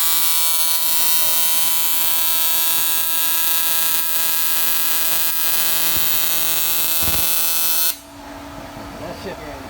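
A TIG welder on aluminum gives a loud, steady electrical buzz with a high whine that runs unbroken for about eight seconds, then cuts off abruptly to quieter room noise with faint voices.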